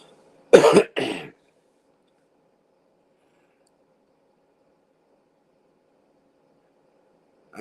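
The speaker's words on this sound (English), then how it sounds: "That coughing gets old quick." Two quick, sharp coughs up close, then a long stretch of near silence.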